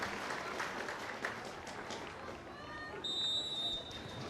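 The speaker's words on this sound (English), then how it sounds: "As the players take the knee, which is welcomed with a warm applause around the Hive Stadium." Warm applause ripples around the Hive Stadium as Tottenham and Manchester City women's players take the knee, a distant, steady wash of clapping with crowd murmur and a brief whistle-like tone near the end.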